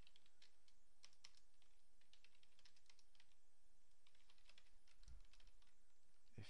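Rapid clicking of code being typed on a computer keyboard for a PHP and jQuery web page, steady irregular keystrokes close up with no voices.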